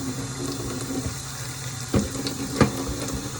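Water poured from a container into homemade tortilla dough for tacos de papa, a steady close trickle and splash with a few louder bursts, no talking.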